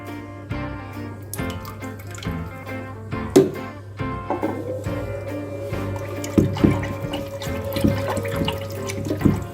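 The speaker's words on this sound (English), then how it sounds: "So you have to pour blue medicine." Blue liquid medicine trickles and splashes into water in a goldfish fry tank, with a steady low hum and a few soft clinks throughout.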